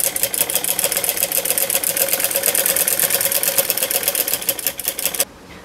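A sewing machine runs continuously, stitching a seam on palazzo pants, its rapid mechanical clatter steady and close before stopping abruptly near the end.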